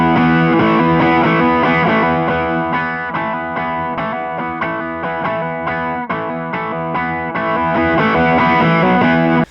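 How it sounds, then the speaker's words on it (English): Electric guitar through an overdrive pedal, with a volume pedal set ahead of it in the chain. Strummed chords sound thick and distorted and keep up a steady, loud rhythm throughout. "as you turn the volume pedal down, it'll make the overdrive pedal not just quieter"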